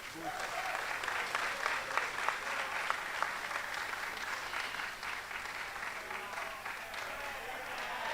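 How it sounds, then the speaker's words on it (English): Audience applause at a sixth-form school leaving ceremony, sustained even clapping from a large gathering that goes on steadily from start to finish. "So please give another round of applause to Mr. Peter Goldson"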